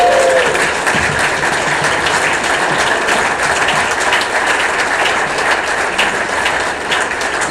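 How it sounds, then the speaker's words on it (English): Loud, dense applause from a large audience at OggCamp 2019 in Manchester fills the space continuously, a steady wash of clapping with no voices standing out. "So give yourselves a round of applause."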